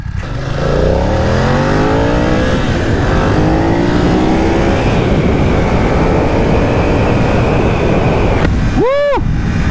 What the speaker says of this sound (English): This bike has got some go. Everything got small behind me. Wow. Back there, I revved it up.